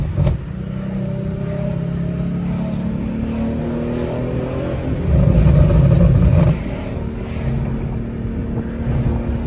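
An Infiniti G37 with long tube headers rumbles deep and loud from inside the car, building into a heavier rev midway before settling back to a steady drone.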